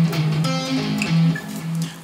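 Palm-muted, alternate-picked electric guitar solo passage with a run of sustained notes and slides, played alone at a steady moderate level.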